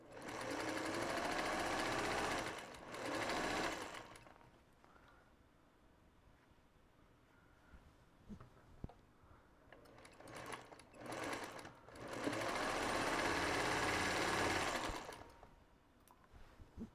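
A sewing machine stitches scrap quilt patches in two sustained loud runs at the start and again near the end, with quieter handling noises between them.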